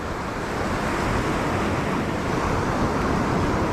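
Surf breaks on the beach at Druridge Bay during a fishing session, a dense, constant rushing roar that stays loud and unbroken, with wind mixed in and no voices.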